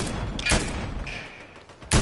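Gunfire in the Fortnite Zero Build video game comes as two loud, close bursts of shots with a brief rattle of fire between them.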